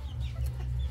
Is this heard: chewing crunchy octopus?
no